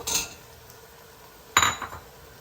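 Potato and carrot pieces tumble into a cooking pan for soya chunk pulao, giving two short clattering bursts of metal contact, one at the start and a louder one partway through, with quiet in between.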